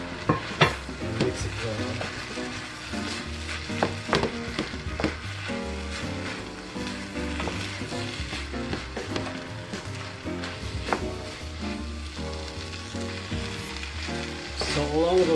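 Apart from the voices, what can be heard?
stir-frying rice with spring onions and eggs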